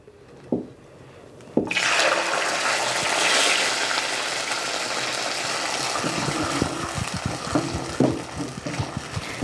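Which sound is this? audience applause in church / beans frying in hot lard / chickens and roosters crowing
beans frying in hot lard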